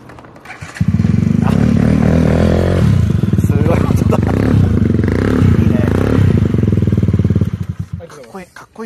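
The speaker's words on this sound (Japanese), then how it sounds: "これちょっとエンジン音聞いてもいいですか。" A Yamaha Jog scooter engine idles and revs with a rough, rattling putter for several seconds before cutting off, close by, with a brief voice at the end.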